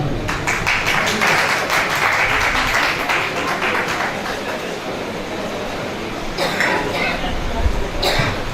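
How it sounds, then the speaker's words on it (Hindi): Audience at a Pakistani mushaira poetry gathering in Layyah gives a sustained round of applause, dense clapping filling the room for several seconds with a brief later swell. "भरपूर तालियों में इनका स्वागत कीजिए मिश्री मलिक"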